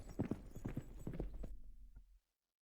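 Horse hooves in the city-building video game Citadelum give a quick run of clip-clops for about two seconds before stopping abruptly into silence.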